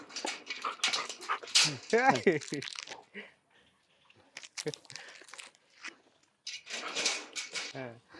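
Dog at a bull farm whimpering and giving short high yips in bursts, close by, with rustling and crinkling handling noises and someone talking around it.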